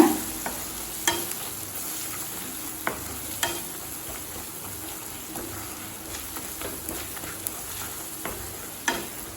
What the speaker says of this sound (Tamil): மிளகாத்தூள் வாசனை போக 1 நிமிஷம் வரைக்கும் நல்லா வதக்கியாச்சுங்க.